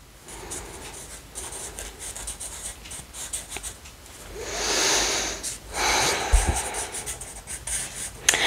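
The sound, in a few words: pen writing on paper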